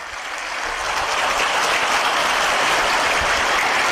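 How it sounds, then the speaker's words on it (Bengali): Schoolchildren clap loudly together in a room, a dense and sustained burst of applause that swells during the first half second and then holds steady. "তার জন্য এবার একটা জোরে হাততালি দাও।"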